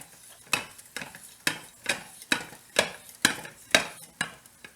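A small stainless steel whisk stirs banana pudding in a pan, tapping and scraping in a quick, regular rhythm of about ten close, clear strokes.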